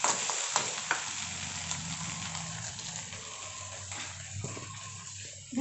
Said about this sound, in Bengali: একটু নাড়িয়ে দিচ্ছি, অলরেডি ভাজা ভাজা হয়ে গেছে